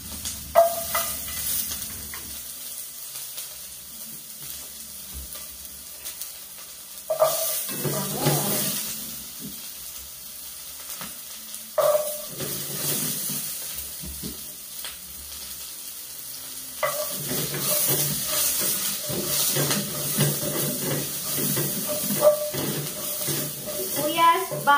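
Onion and garlic frying in a home kitchen pan: loud sizzling with repeated stirring and scraping bursts, a voice speaking intermittently over the cooking.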